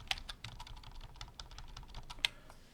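Fingers type text on a computer keyboard in quick, uneven bursts of close, crisp key clicks, a few strokes landing harder than the rest, with no voices.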